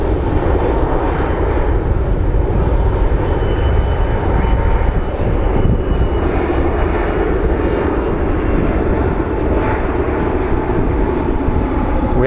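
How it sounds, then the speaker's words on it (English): A small Learjet comes in to land at Phoenix Sky Harbor airport, its engine a loud, continuous roar that holds steady and close throughout. "looks like we have a small plane coming in for landing"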